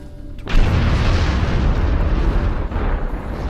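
Grenade blasts in the Star Trek Online video game: a sudden loud boom followed by a sustained, dense rumbling roar of overlapping detonations that stays heavy for several seconds.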